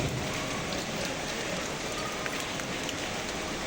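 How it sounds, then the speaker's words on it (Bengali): Heavy rain lashes a rooftop garden during Cyclone Remal, a loud, unbroken roar of downpour drumming on surfaces throughout, with no voices. "বৃষ্টি অনেক"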